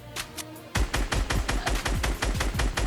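Rapid bursts of automatic gunfire in Fortnite Battle Royale rattle in quick succession, loud and close, after a brief quieter stretch of scattered shots.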